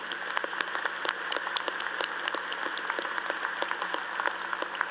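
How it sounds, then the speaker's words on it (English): A commencement audience applauds a keynote speaker steadily, a dense wash of clapping that holds at an even level throughout. "Please join me in giving one more round of applause to our keynote speaker, Dr. Monica Ashinta-Nelson."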